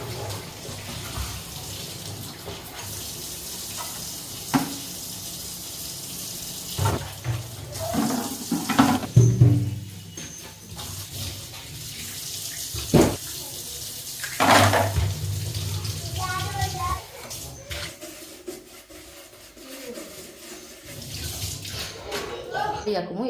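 Tap water runs and splashes while plastic bottles, including 500 ml ones, are rinsed and washed at a sink, with intermittent clatter and bursts of flow over roughly twenty seconds and a voice talking throughout.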